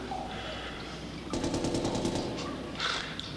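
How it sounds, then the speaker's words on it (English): Gunfire from a cell block roof in an action crime movie scene: a short rapid burst of shots, fairly close, cutting in over a dim background, followed by a brief flare of noise. "we're getting gunfire at the east end of the cell house, from the cell block roof."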